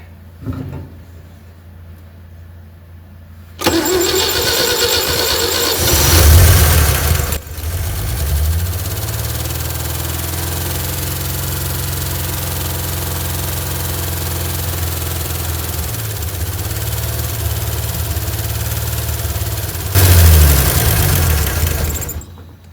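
A 1960 Chevy C10 engine that sat for decades turns over after a few quiet seconds, catches, and settles into a loud, steady rough idle for about twelve seconds before revving up again near the end.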